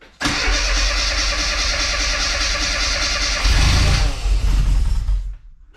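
A classic Mini engine with a John Cooper conversion cranks and catches after 22 years, running rough and loud, then surging briefly under throttle before settling and cutting away near the end.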